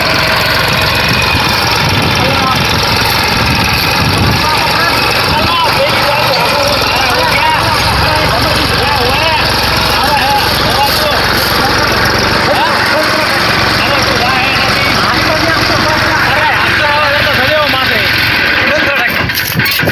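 A tractor engine drones loudly and continuously nearby, a steady rumbling chug, with people talking over it.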